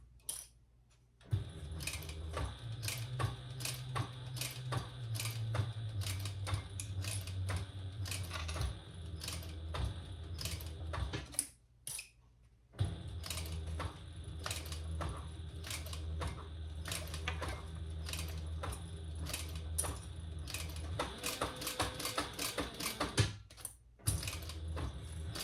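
A home sewing machine stitches around a zipper seam at 1/8 inch, running in long steady bursts with a low motor hum, briefly stopping near the middle and again toward the end, with clicking and tapping over the run.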